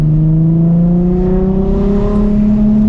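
A Nissan 350Z fitted with a Megan Racing exhaust pulls hard under acceleration in second gear, its loud, steady engine drone climbing smoothly in pitch from inside the car.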